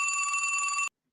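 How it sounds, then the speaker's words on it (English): A telephone rings for an incoming call, one steady bright electronic ring lasting about a second, loud and close, then stopping abruptly into silence. "I got another phone call."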